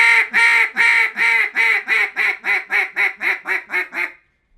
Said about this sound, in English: once you got your quack and you've strung 5 or 7 of them together to get your greeting call